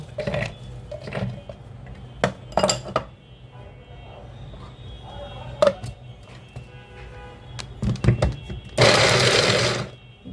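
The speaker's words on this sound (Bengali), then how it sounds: "লাস্টে এক চাপ দুই চাপ তিন চাপ শেষ এই তিন চাপে আমার রসুন কুচি হয়ে গেছে" Garlic crushed in a manual press chopper, with scattered plastic clicks and knocks up close, then a short loud whirring rattle near the end.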